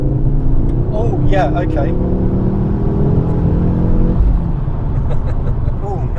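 A MK2 Ford Focus RS turbo engine pulls hard in third gear, rising loud and close before the throttle lifts, while people talk briefly over it.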